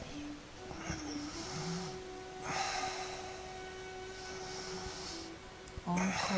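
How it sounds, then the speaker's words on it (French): Deep yogic breathing, slow inhalations filling the lungs, comes as long airy breaths at a moderate distance over a steady background tone, with a few sharper exhale bursts near the end. "Remplissez les poumons."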